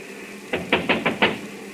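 Five firm knuckle raps on a door come in a quick, slightly uneven sequence, close and distinct against a quiet room tone in an old radio drama.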